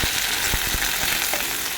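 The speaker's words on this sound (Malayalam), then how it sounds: "അല്പം കടുക് ഒരു മൂന്നാല് മുളക് അല്പം കറിവേപ്പില ഇത്രയും ചേർത്ത് കൊടുത്തൊന്ന് കടുക് വറുത്തെടുക്കാം ആദ്യം" Mustard seeds, a few dried chillies and curry leaves fry in hot coconut oil, giving a steady close sizzle with several sharp crackles and pops scattered through it.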